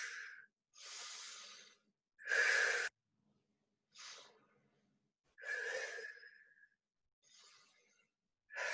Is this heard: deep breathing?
yes